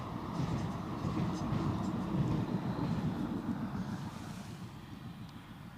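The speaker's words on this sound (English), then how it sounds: "I can hear an Eastern Airways" An Eastern Airways Jetstream turboprop at Newcastle International Airport drones steadily in the distance under wind noise. The low, even rumble gradually fades away.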